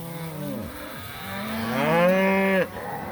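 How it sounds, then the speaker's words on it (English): South Poll cows on a pasture bawl for their lost calves, two or three long, loud, close moos rising and falling, the last one swelling to a strong drawn-out call before cutting off. "the cows are all bawling for their calves"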